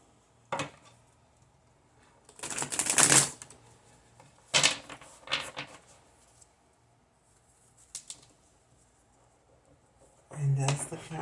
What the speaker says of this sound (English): I'm going to shuffle them really good, the best I can.